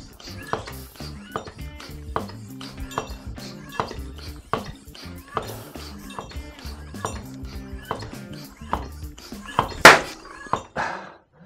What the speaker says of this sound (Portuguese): isso significa que o pneu entrou no aro, que ele encaixou no aro